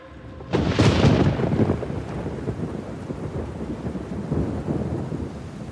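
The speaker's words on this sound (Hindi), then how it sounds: "बाहर बारिश और बिजली का शोर तेज हो जाता है।" A loud, sudden crack of thunder breaks early, then rolls off into a steady, heavy downpour of rain that continues to the end.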